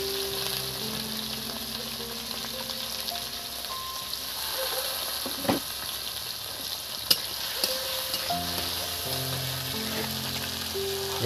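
Chopped tomato sizzles in a frying pan with a constant, even hiss and a few soft clicks and taps from a utensil, close by and without speech.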